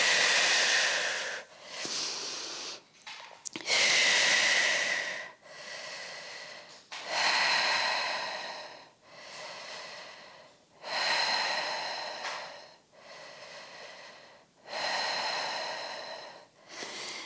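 Deep, breathy exhalations repeat at a slow, steady pace during a prenatal early-labor workout, each long airy breath rising and fading with short pauses between. They are close and fairly loud, and no one talks over them.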